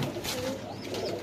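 Flying-breed pigeons coo softly nearby on a pigeon farm, a brief low call over a faint busy background.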